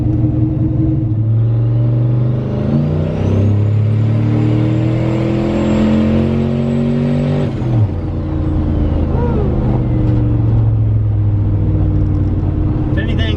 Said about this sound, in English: let's get out and try and see if this thing will build some boost on the brake and maybe do a couple sweet burnouts